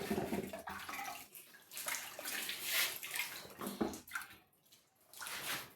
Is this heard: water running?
yes